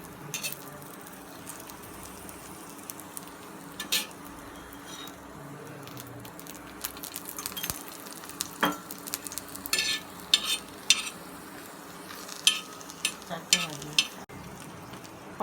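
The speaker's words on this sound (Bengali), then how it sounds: "পরোটাটা ভাজা হয়ে গেছে" A potato-stuffed paratha frying in oil in a pan, with continuous close sizzling and spattering, irregular crackling pops and occasional utensil scrapes, no speech.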